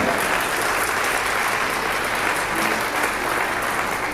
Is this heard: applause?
yes